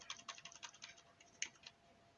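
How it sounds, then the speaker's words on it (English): Computer keyboard keys pressed one at a time, shift and arrow keys tapped in a quick run of light clicks followed by a couple of spaced presses, quiet and close with no talk. "you can select that text by pressing the shift and the arrow keys, one arrow key at a time"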